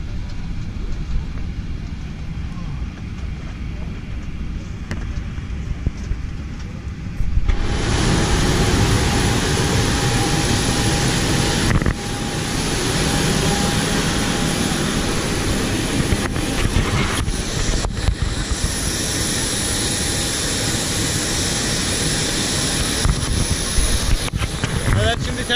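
Jet airliner taxiing toward the terminal after landing in Kathmandu, heard from inside the cabin as a loud, steady broadband roar with a thin whine, surging louder after a quieter start, with faint bumps and rattles throughout.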